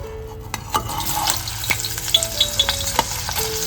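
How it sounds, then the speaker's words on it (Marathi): Soybean chunks frying in hot oil, a steady crackling sizzle with sharp pops and spatters throughout, close and loud, with no talking. "आता मी थोडी थोडी ना सोयाबीन ना तेलात फ्राय करून घेते"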